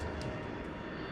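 U.S. Navy C-130 transport plane on final approach near a runway, a steady broadband propeller-engine drone, fairly close and continuous, with no talking.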